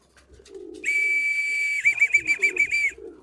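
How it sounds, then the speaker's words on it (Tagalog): Pigeons give a long steady whistle-like call followed by a warbling, pulsing trill, close and clear, with soft low cooing before and after. "Mukhang nauhaw yung mga kalapati ko."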